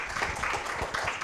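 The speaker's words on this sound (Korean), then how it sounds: "큰 박수 부탁드리겠습니다." A lecture hall audience applauds a guest professor with a brief, dense burst of hand clapping, steady and fairly loud, filling the short moment before she begins to speak.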